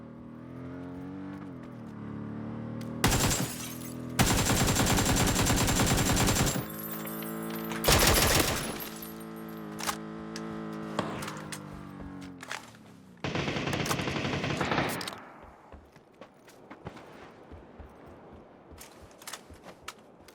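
Automatic rifle fire in the battle royale game PUBG, set on the Erangel map's bridges: loud repeated bursts of rapid shots with long sustained volleys, up close, amid engine-like game noise and a brief pause between strings of fire.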